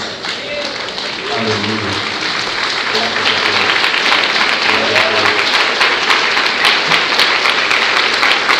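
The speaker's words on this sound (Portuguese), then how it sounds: "Fica de pé, aplauda o Senhor, glória a Deus." A church congregation stands and claps steadily throughout, a dense, loud wash of applause while a preacher's voice calls out over it.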